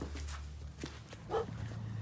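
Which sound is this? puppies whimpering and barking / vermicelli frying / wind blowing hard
puppies whimpering and barking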